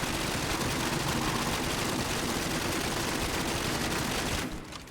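Dense, continuous rapid gunfire from a weapon in The First Descendant, a loud unbroken fusillade of shots that runs for several seconds before abruptly cutting off near the end, with no talking over it.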